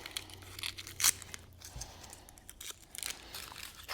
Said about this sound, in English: So we're going to unwrap this.